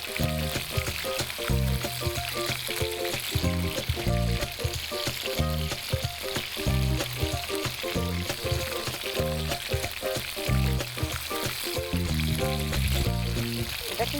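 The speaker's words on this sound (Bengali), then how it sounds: "আজকে এই যে তেলে ভাজা করছি" Macaroni fritters fry in hot oil, a loud continuous bubbling sizzle with dense crackle throughout, close up and uninterrupted.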